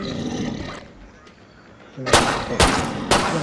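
Gunfire in the Killing Floor 2 video game, three loud sharp shots roughly half a second apart after a muffled rumbling stretch, each blast cutting off abruptly.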